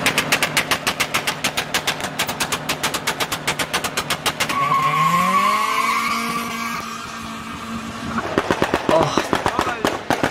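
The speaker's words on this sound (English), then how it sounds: "His car sounds so bad." A rice-style street car does a burnout and donuts on the street, its harsh engine popping in rapid bursts, then a long sustained rev with tire squeal from about 4.5 to 8 seconds before the popping returns, loud and close.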